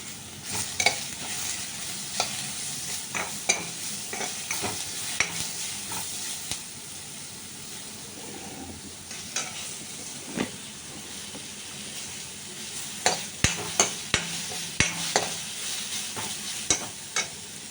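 Sliced onions sautéing for fish moilee sizzle steadily in a pan while a spoon stirs them, with repeated sharp scraping clicks and clatter bursts over a constant frying hiss; no voices.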